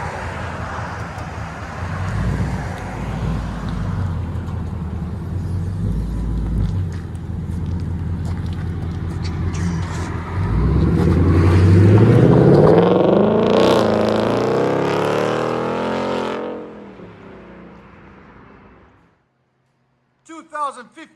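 Ford Mustang GT with a 5.0 Coyote V8 and loud aftermarket exhaust, close by, idling in a rumble before a strong rev swell in the middle and a fade-out, heard under ongoing talk.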